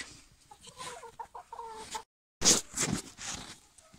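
Chickens inside a chicken coop give soft, close clucks and short calls. The sound is fairly faint and breaks off for a moment before the hens resume clucking.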